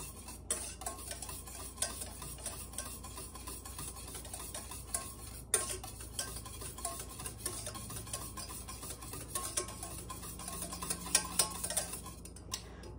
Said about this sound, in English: And whisk that all together.